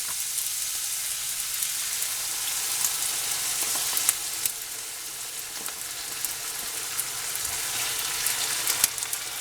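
A beef and green bean stir fry sizzles hard in the pan after sauce goes in, a steady loud hiss and crackle with occasional sharper pops throughout.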